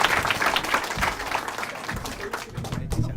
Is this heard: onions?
no